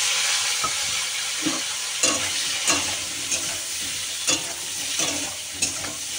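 Bitter gourd fries in oil in a wok, a constant close sizzle broken by repeated scraping and clacking of a spatula stirring the pieces at irregular intervals, with no voices.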